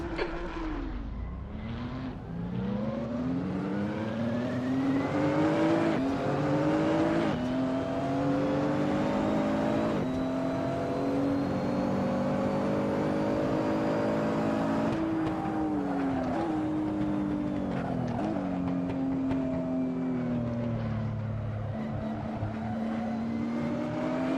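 A GT3 race car engine in a racing video game accelerates off the line at Mugello, revving up through gears with rising and falling pitch sweeps, loud and continuous with no talk over it.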